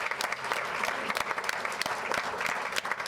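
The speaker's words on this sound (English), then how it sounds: "Can we give everybody a round of applause once again?" Audience at a school board meeting claps steadily for newly appointed elementary, middle and high school principals, a dense round of applause filling the room throughout.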